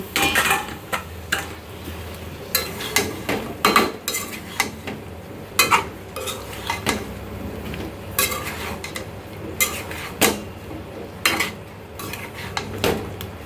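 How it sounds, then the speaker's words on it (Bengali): Radish and ash gourd pieces stirred in a pan with a metal spoon, a steady run of scraping and clinking strokes against the pan, close and fairly loud, with no talk. "এখন মূলা দিয়ে একটু চামচের সাথে কষিয়ে নিব"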